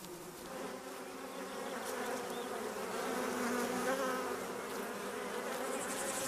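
Honey bees hum steadily inside their hive during winter, a dense, continuous buzz from the colony that swells slightly midway and holds at a close, even level with no voices.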